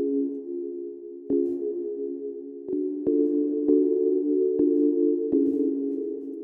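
A sustained synth chord made in Ableton for a tech house track, with reverb added, holds a smooth, tonal pad that shifts between chords, punctuated by sharp clicks and swelling slightly louder toward the end, without any voice.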